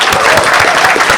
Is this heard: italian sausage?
no